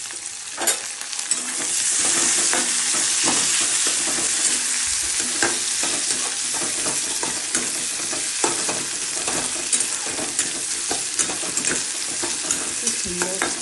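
Tomatoes fry and get stirred in a hot pan for a Bengali cauliflower bhorta, giving a steady close sizzle for the whole stretch with frequent scraping and tapping of the spoon.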